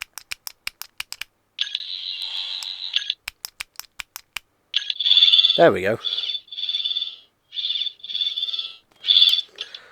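A retail Doctor Who 14th Doctor sonic screwdriver toy clicks rapidly, then emits bright, warbling high-pitched electronic buzzes in repeated bursts with a brief pitch-swooping sweep, close and loud; a voice speaks briefly partway through.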